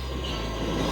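A train heading toward rough terrain rumbles past close by in a steady, dense mix of low rolling drone and broadband rail noise, with no voices.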